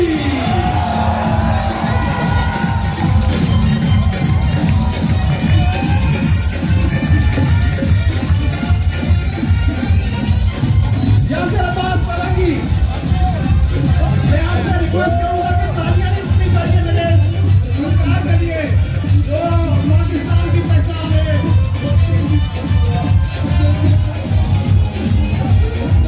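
A concert crowd at a musical night in Kuwait claps, whoops and cheers loudly and without a break as comedian Yasir Abbas Malangi is welcomed on stage, with shouts rising over the roar and scattered voices mixed in.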